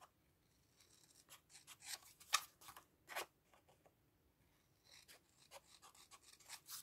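Scissors snipping the corners of paper for a small handmade album, a run of quiet, crisp cuts and rustles in irregular bursts, close by with no talking.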